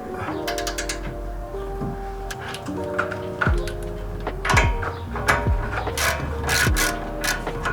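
A hand ratchet turns a 15 mm bolt while a rear camber lockout kit is installed on an S550 Mustang, giving bursts of quick clicking strokes with short pauses between them, close and fairly clear.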